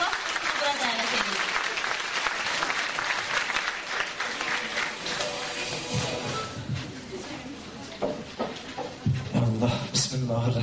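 An audience at an evening religious gathering applauds to welcome a devotional song group, dense clapping throughout with a voice speaking over it.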